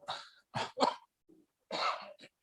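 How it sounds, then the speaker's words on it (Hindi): Several harsh coughs come in quick bursts, close and loud, with short silent gaps between them. "खांसी आने का बहुत खराब समय था"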